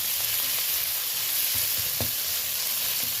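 Ginger paste stirred into softened onion and tomato frying in a pan, a steady close sizzle with a few light scraping strokes of the spoon, no talking.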